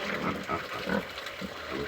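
Low, rough grunts from Vietnamese pot-bellied pigs repeat unevenly throughout, close by, with a steady barn-like background noise.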